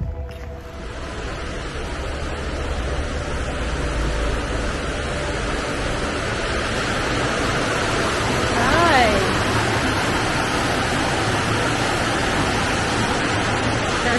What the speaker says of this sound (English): It's a river, y'all.